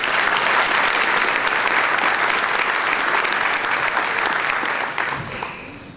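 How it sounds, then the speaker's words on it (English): Audience applause at an award ceremony, dense continuous clapping from a full room that stays loud for several seconds, then tapers off quickly near the end. "Let's give him a round of applause."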